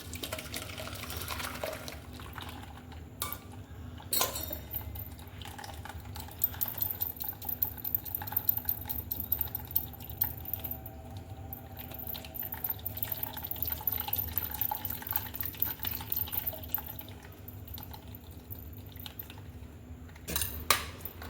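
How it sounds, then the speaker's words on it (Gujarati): Bottle gourd and drumstick soup being strained, with a spoon pressing and scraping against a metal strainer, producing irregular clinks and scrapes over a low background hum, plus a couple of louder knocks. "હવે આપણે એને ચમચાથી એકદમ દબાવી બધો રસ અંદર નીકાળી લઈએ।"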